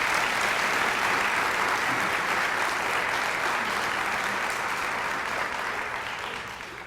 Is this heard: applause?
yes